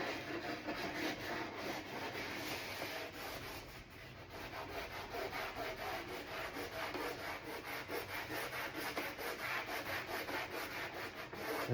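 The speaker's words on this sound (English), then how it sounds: "This emery cloth does a perfect job because it doesn't grind off the factory coat." Emery cloth rubbed by hand over a door panel's factory coat, giving a steady, close, continuous scrubbing with a fast back-and-forth rhythm and no pauses for nearly twelve seconds.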